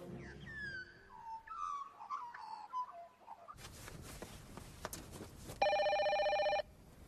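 A telephone rings at a police station, a steady electronic double-tone burst sounding loudly for about a second near the end, after birdlike chirps and background clatter.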